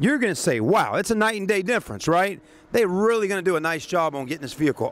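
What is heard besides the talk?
No everyday noise stands out behind the speech.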